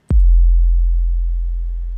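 A single 808 bass hit from the BD 808 plugin, transposed up 24 semitones, starts with a sharp click and then sustains as a deep, smooth sine-like boom that slowly fades, alone and loud.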